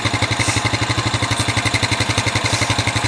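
Jeep Rubicon engine idling with a newly replaced exhaust, a close, steady, loping rumble of evenly pulsing beats with light mechanical clatter on top.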